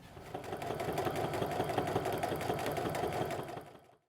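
A sewing machine stitches fabric along the edge of foam on a fabric basket tube, giving a close, steady, rapid mechanical chatter for several seconds before it stops abruptly.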